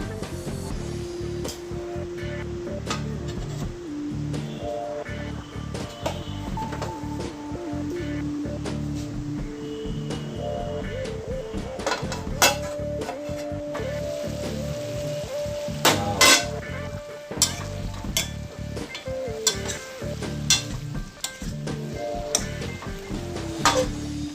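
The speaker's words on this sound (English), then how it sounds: "Let's have a look and see how my bitter gourd is cooking." Bitter gourd cooking with onions in a covered pan for a Chinese-style bitter melon and black bean beef dish, giving a steady low sizzle with frequent clinks and scrapes of utensils against the pan throughout.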